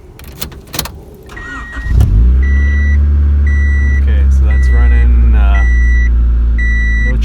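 A Honda engine running its stock ECU cranks and catches at about two seconds, then settles into a loud, steady idle, with repeated electronic warning beeps chiming at regular intervals over the running engine.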